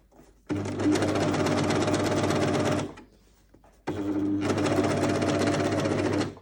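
A sewing machine stitches swimsuit bikini bottoms in two loud, steady runs of rapid stitching, split by a short quiet pause, with no voices.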